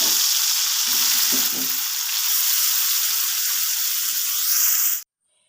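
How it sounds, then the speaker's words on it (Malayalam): Steady, loud hiss and crackle of chicken pieces frying in hot oil, with a few low clunks of stirring early on, cutting off abruptly near the end. "ഇനിയും ബാക്കിയുള്ള എണ്ണയിലേക്ക് ബാക്കി കഷ്ണങ്ങളോടെ വറുത്ത് വെക്കാം"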